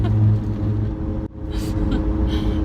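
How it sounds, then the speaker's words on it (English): Steady low engine and road rumble from inside a moving car, a constant drone filling the cabin throughout with a brief dip midway, and a voice talking over it. "We're in the car again."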